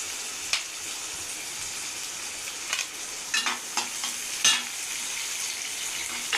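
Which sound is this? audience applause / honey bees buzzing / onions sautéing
onions sautéing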